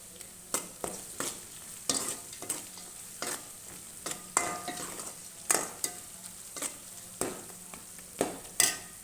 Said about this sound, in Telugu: మంచిగా వేగిపోతున్నాయి చూడండి